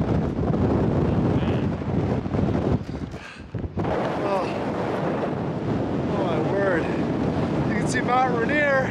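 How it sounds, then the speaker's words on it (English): Strong wind roars across the summit of Mount Adams in the Cascades, a loud, steady buffeting rush that dips briefly near the middle, with voices talking and exclaiming over it. "It's so windy up here."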